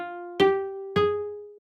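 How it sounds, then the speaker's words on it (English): A cello pizzicato sample in a software sampler plays two bright plucked notes about half a second apart. Each note rings and fades on its own, with no other sound. "I'm going to come in and do a cello"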